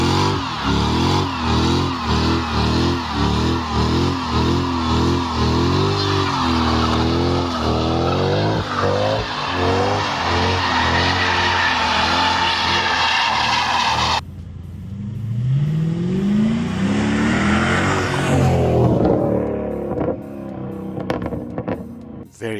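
A Mercedes W203 compact with a naturally aspirated 5.5 liter V8 revs loud and close, its pitch climbing and falling through sustained pulls, then dropping away before a final rising sweep.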